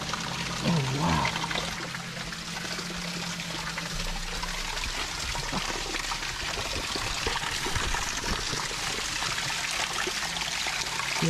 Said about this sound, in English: See, that's where the water's falling and created this whole hole here